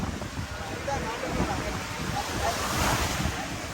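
Sea waves wash against a racing boat at a boat race, a continuous close rush of surf mixed with heavy wind buffeting.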